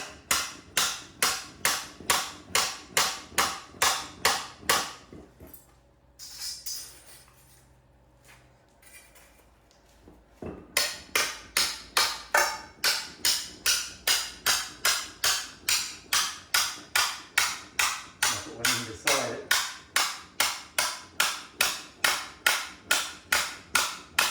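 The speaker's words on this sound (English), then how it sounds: "You see each tap I get about 3 or 4 mils further in" Steady, evenly spaced sharp taps of a tool being driven under a large tile to pry it loose, loud and close, with a brief quieter pause midway before the rhythmic tapping resumes.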